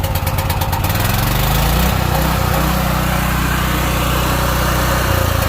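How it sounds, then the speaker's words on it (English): The small engine of a Harbor Freight welder generator idles loudly and continuously, a steady buzzing chug like a little two-stroke with slight shifts in pitch. "Fire right up. This sounds like a little two-stroke."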